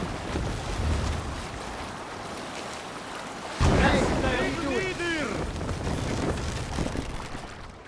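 Longship sailing on open-sea waves in Assassin's Creed Valhalla, a steady wash of water and wind noise throughout, growing louder and fuller midway, with voices calling out over it.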